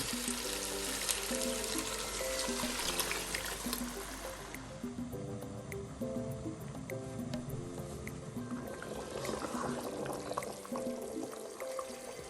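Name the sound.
water poured into pot of chicken and vegetables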